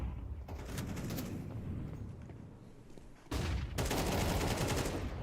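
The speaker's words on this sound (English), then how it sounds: "Good flashbang from Krebeni." A flashbang grenade detonates during a competitive tactical shooter match, a sudden loud blast with a bright, harsh ringing burst that holds for about half a second amid steady game noise, then the noise level stays raised.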